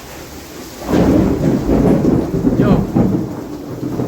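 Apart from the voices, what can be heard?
thunderstorm with thunder and rain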